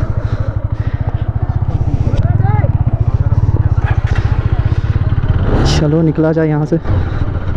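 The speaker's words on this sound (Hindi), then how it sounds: "तो चलो चलते चलाते हैं गाड़ी को, देखते हैं कैसा लगता है बी एस फोर में।" A Bajaj Pulsar RS 200 BS4 motorcycle engine runs loud and close, revving as the bike sets off, with someone talking over it throughout.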